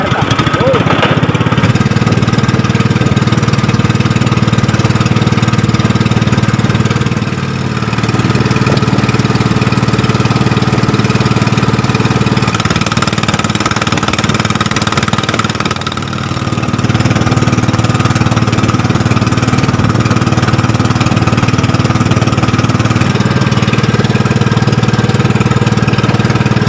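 A fishing boat's engine runs steadily on Laguna Lake, a loud, close, continuous mid-pitched drone with a knocking chug. It dips briefly twice but never stops.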